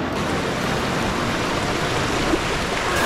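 Brown creek water flows in a steady, dense rush close by while a container is filled, a constant broadband wash with no breaks and no talking.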